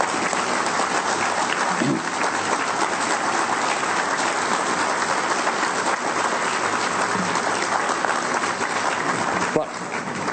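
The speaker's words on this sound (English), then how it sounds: "you deserve our applause and our gratitude" Sustained audience applause at the groundbreaking ceremony for the 26-acre Hudson Yards development in New York, a dense, steady roar of clapping filling the whole stretch at even loudness.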